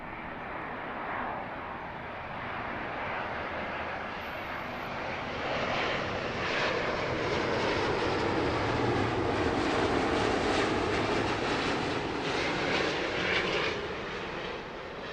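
A Finnair airliner at Heathrow Airport produces a sustained, broad engine roar that swells gradually and stays loud and steady throughout, with no voices over it.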